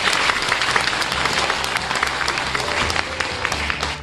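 Audience applause at a Mokdong apartment residents' briefing in Seoul, a dense, steady clapping from a large indoor crowd sustained for about four seconds without pause.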